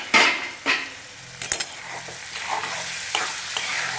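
Safflower leaf greens being stirred in a pan, several distinct scraping strokes of a spoon over a soft frying sizzle, close by, with no talking.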